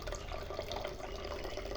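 Herbal juice of tulsi, aloe and other leaves dripping and trickling steadily as it is strained, a continuous close wet pattering without pauses and with no voices.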